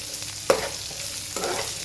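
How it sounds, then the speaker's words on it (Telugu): Onions sizzle in a hot pan as a utensil scrapes and stirs them, with two sharp clinks against the metal. "ఇప్పుడు ఇందులోకి ఉల్లిపాయలు యాడ్ చేసుకోండి"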